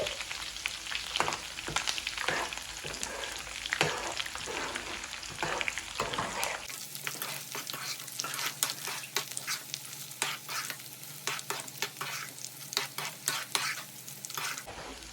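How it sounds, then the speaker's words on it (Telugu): Oil sizzles steadily as spices, dried chillies, curry leaves and garlic cloves fry for a tomato pickle tempering, with scattered crackles and pops and occasional stirring scrapes throughout. "తాలింపు చక్కగా వేగిపోయింది కదా."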